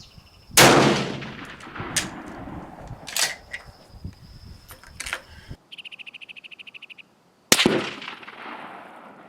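Sharp, loud rifle reports from a Steyr rifle at an outdoor range, two or three separate shots with ringing decay, plus a few clicks and a short rapid electronic beeping near the end.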